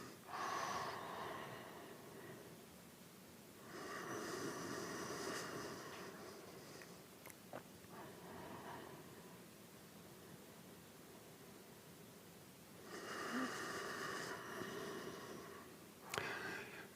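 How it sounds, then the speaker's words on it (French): Slow, deep breaths during a sun salutation yoga session, with long airy inhales and exhales in separate swells, soft and close, with no talking. "Prenez quelques respirations."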